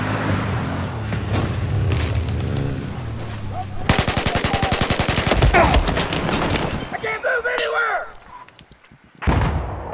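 Automatic gunfire in Battlefield 4 on the Guilin Peaks map, loud rapid bursts of shots with a steady rattling stretch in the middle, layered over busy game music and battle noise.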